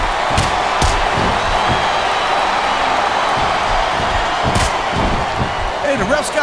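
A steady wash of arena crowd noise from a WWE SmackDown vs Raw 2007 wrestling match on Xbox 360 fills the scene, rising in a sustained chant with occasional sharp thuds, under commentators' voices.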